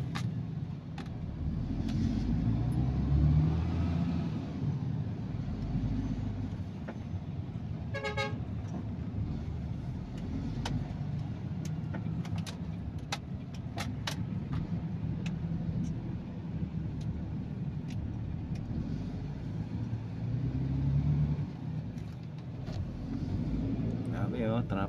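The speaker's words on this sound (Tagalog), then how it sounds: "Grabe traffic talaga guys" Dense road traffic coming from Balintawak rumbles steadily with engines idling and crawling, car horns tooting now and then near and far, while people talk over the din.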